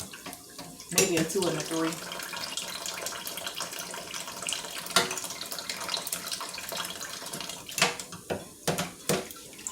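Tap water runs steadily while raw pork neck bones are washed and rubbed by hand in a sink, with faint clinks and a voice talking over the flow.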